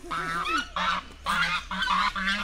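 Geese on a farm honk close by in a run of loud, nasal, repeated calls, several overlapping at a quick uneven rhythm.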